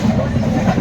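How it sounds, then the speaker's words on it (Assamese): Inside the general coach of a moving passenger train, a low steady rumble of the carriage fills a brief moment, with faint background voices. "মই আজি ফাৰ্ষ্ট টাইম ট্ৰেইনত আহিছোঁ।"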